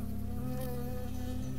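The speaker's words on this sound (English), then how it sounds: "I got stung by a bee." A bee buzzing steadily and close in the game Firewatch, a droning insect hum with no talking.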